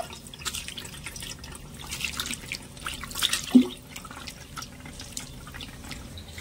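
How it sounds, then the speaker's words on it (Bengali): Water splashes and drips as fresh chhana cheese curds are rinsed by hand. The soft, irregular trickles and splashes are fairly close, with one brief louder slosh midway. "আর এই ছানাটাকে আমি একটু ভালো করে ধুয়ে নেব।"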